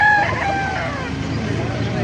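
A rooster crows at a gamefowl market in Calumpit, Bulacan, a strong harmonic call rising at the start and trailing off over about two seconds, set against a busy crowd murmur and other fowl nearby.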